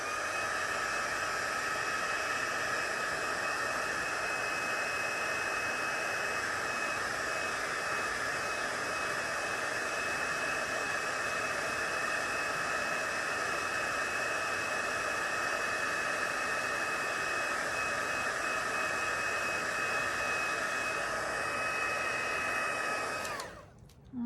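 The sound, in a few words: heat tool blowing to dry wet red paint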